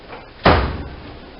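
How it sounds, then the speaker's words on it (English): A drawer on a Harbor Freight tool chest slides shut with a single sharp bang that rings out and fades over about a second, alone and close by. "this drawer is opening all the way as well"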